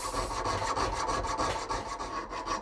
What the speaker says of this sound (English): I'm going to be filing little scallops into this cabochon